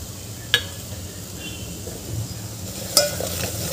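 Spinach dal with kasuri methi gets stirred in a pan for a traditional Vidarbha wedding-style dal bhaji, a low bubbling simmer broken by two sharp clinks of a spoon against the pan.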